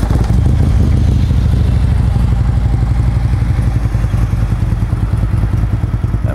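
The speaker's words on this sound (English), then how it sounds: "That 110's got a really nice rumble to it with those Vance and Hines exhausts." A Harley-Davidson CVO Road King with a 110 engine and Vance and Hines exhausts idles close by with a deep, loud, steadily pulsing rumble and a little mechanical clatter, continuous throughout.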